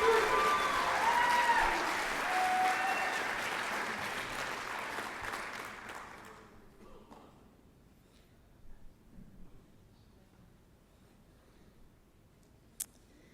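Audience applause at a high school student-of-the-month recognition ceremony, a dense steady clatter of many hands that fades out after about six seconds, leaving a quiet room with a few scattered claps and one sharp click.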